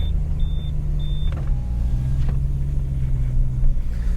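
Inside a BMW E90 M3 on the road, a low, steady engine rumble drones continuously, with a faint high whine early on and no talking.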